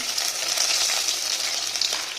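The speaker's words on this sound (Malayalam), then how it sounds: "ഞാനൊരു 2 ലെഗ് പീസ് പൊരിച്ചെടുക്കുന്നുണ്ട്" Steady, loud sizzling and spattering of chicken leg pieces frying in hot oil, continuous and close, with no talking.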